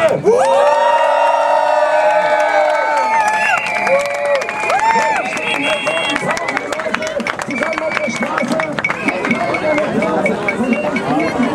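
Crowd at an anti-nuclear demonstration in Bonn cheering, whooping and clapping, loud and close, with overlapping shouts and voices carrying on throughout.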